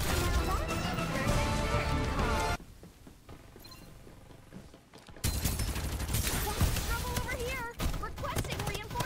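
Dense gunfire bursts and explosive crashes in the Farlight 84 shooter game, loud and continuous, dropping out for a couple of seconds midway before resuming, layered with in-game effects and a voice talking.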